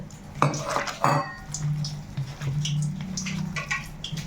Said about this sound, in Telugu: నీట్గా మొత్తం మిక్స్ అయ్యేటట్టు కలుపుకుందాం